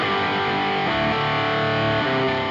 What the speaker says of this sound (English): I'm just showing you how the different distortions sound.